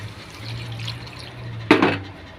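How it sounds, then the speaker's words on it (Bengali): Water pours with a short splash into a potato and egg curry cooking in a pan, a brief close gush over a faint low hum, with no talking. "এবার আমি দিয়ে দেবো জল পরিমাণ মতো"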